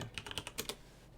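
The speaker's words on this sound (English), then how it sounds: "And then we're typing in Barz Fury." Typing on a computer keyboard, a quick run of light, close key clicks in an irregular rhythm that stops abruptly, with no voices.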